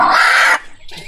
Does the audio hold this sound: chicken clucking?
yes